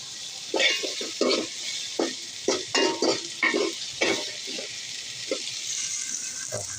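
Ginger paste frying with browned onions and onion paste in a pan for duck curry on a gas cylinder stove, a steady hiss of sizzling punctuated by a run of rhythmic spatula scrapes and stirs, heard alone.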